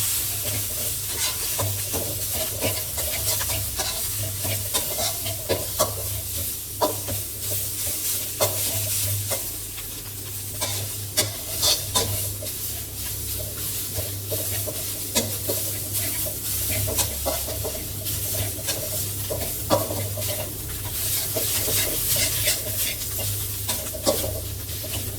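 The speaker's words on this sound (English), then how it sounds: "Add the red chili paste and fry in the oil until fragrant, softened, and well blended with the oil." Red chili paste fries in oil in a wok for a Thai choo chee curry, a close, continuous hissing sizzle broken by repeated scraping stir strokes, with a low steady hum beneath and no talking.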